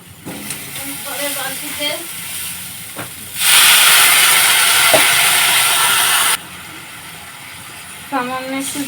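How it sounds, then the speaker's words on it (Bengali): Water splashed into a hot pan of flattened-rice pulao with sugar, bursting into a loud, steady steam hiss for about three seconds before cutting off abruptly, with quieter kitchen clatter around it. "সামান্য একটু জল দিয়ে দিলাম"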